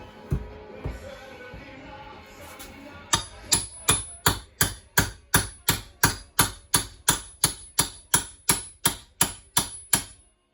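A hammer strikes a nail in a steady run of about eighteen sharp, evenly spaced blows, close and loud, during a shuttle bus conversion, after a stretch of quiet background movement.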